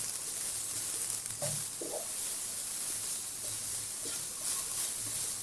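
Coarsely ground urad dal sizzles and hisses as it is stirred into a hot spiced pan, a steady close frying sound with a few soft scrapes of the spoon.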